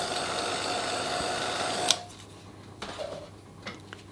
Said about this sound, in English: just give it a quick dry with my heat gun here.